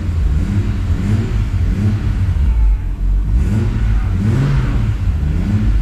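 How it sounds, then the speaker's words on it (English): A car engine runs at idle close by, a steady low droning rumble whose pitch wavers slightly in a loose rhythm throughout, with no voices over it. "The car's actually idling quite nice."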